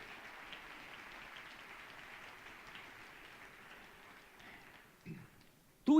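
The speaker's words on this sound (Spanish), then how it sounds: "Dele un aplauso al Señor esta mañana." Church congregation applauding during a Spanish-language sermon, a soft, even rain-like wash of clapping that holds steady at a distance before a voice breaks in at the end.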